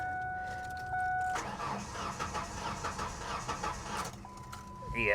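A Ford F150 pickup's engine cranks over without firing, giving about three seconds of rhythmic churning from the starter motor after a steady warning chime, and then the chime returns.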